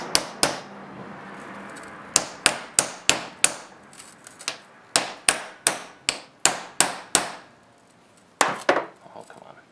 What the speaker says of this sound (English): Put your bearing on. This one I usually have no issues with. 0 issues with this one. That, give it a little tap,